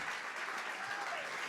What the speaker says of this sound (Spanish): usted déle el aplauso al Señor